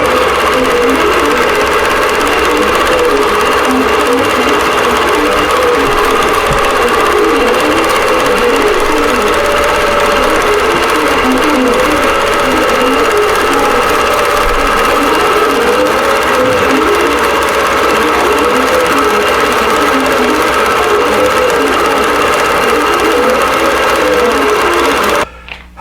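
A computerized quilting machine stitches a row of applique quilting, a steady, loud mechanical hum with a fast regular needle rhythm running unbroken for the whole stretch before stopping at the very end.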